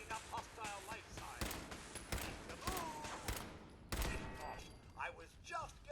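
A turret firing in Fallout 4, a series of sharp separate shots spread across the clip, mixed with game voices talking between the bursts.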